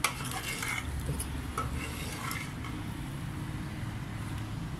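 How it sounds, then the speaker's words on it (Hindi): Flour is stirred into nihari in a cooking pot, a steady scraping and clinking of a utensil against the pot over a low background hum, with no talking. "हमने थोड़ा डाला, इसको चलाना है साथ में"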